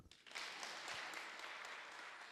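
Audience applause at a Teach2Give graduation ceremony, a broad sustained wash of many hands clapping that swells in quickly and holds steady and fairly loud throughout.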